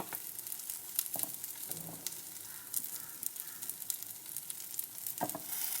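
Ground fennel, cinnamon and turmeric fry with chicken in a pan, giving a quiet, steady crackling sizzle broken by occasional soft stirring scrapes, with no voices.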